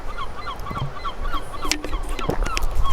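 Geese honk repeatedly in a rapid chattering series over steady beach ambience, fairly close, with a few sharper calls standing out in the middle.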